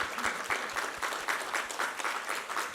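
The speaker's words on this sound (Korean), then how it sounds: "우리 하나님께 감사와 영광의 박수 올려드리겠습니다." Applause from a congregation at a Korean church Sunday worship service, a steady wash of many hands clapping with a faint rhythmic pulse, fairly loud and continuous with no talking.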